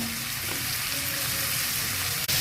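Potatoes frying in a pan with onion, chili and tomato for a mixed-vegetable fish dish, giving a steady, close broadband sizzle throughout with no talking.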